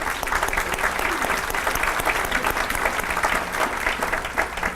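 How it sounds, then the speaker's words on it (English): A banquet crowd at a Teacher of the Year event applauds, a dense and steady wash of clapping from many hands that holds at an even level throughout. "Let's give them a round of applause."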